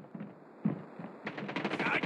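Gunfire in the video game Call of Duty Mobile, rapid automatic bursts at close range that grow denser and louder toward the end, with brief in-game voice fragments mixed in.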